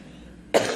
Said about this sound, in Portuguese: Pausa para uma tossidinha.